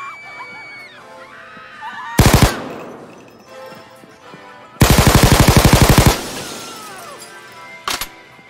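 Gunfire in the VR video game PayDay 2, in three bursts: a brief rapid volley, a longer rattling automatic burst with shattering glass, and a final short shot. Music and faint voices play underneath.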